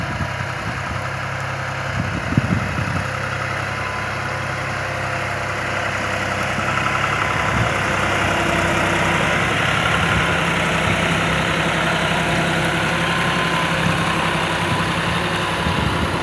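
A tractor engine idles in a steady, close, low rumble at a sugarcane field while trolleys of dairy manure are delivered, holding an unbroken drone with no voices.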